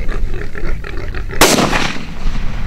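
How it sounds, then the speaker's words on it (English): A single loud, sharp gunshot fired at a wild hog rings out outdoors midway through, its blast decaying over about a second against a rustling background. "I shot past it"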